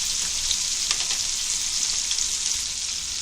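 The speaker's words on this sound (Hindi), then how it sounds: "बड़ी बड़ी मच्छी फ्राई करेंगे ना" Large whole fish, uncut, frying in a pan for a Kokani seafood thali, with a steady, dense sizzle that stays loud and even throughout.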